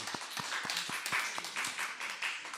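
A church congregation claps together in a quick, steady rhythm, the sharp hand claps close and fairly even over a soft background murmur.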